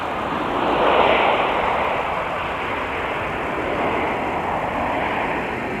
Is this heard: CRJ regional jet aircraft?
yes